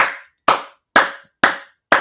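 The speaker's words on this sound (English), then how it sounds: "I'm clapping." Five sharp, loud hand claps ring out one by one at an even, deliberate pace, each separated by a short silence, close to the listener with no talk over them.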